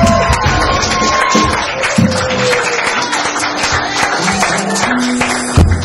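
An open mic audience applauds, a steady wash of clapping hands from a crowd with a few louder claps near the end, mixed with some background murmur.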